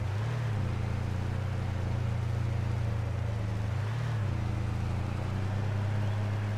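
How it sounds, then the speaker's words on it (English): Several tractors working large fields in Farming Simulator 22, a steady, continuous engine drone with a low hum that rises briefly and settles, heard alone without talk. "Those are the tractors that are working at the moment."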